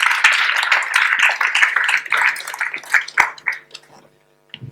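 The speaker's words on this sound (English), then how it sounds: "Can we have a round of applause to welcome Jacques?" Audience applause welcoming a speaker to the stage at a vegan expo in Whangarei, New Zealand: loud, dense clapping from a close crowd that thins into scattered claps and then stops.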